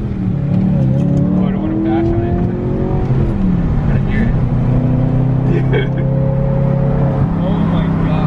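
BMW E92 M3 with a modified exhaust revving hard nearby, a loud, sustained engine drone rising and falling in pitch, with people talking over it.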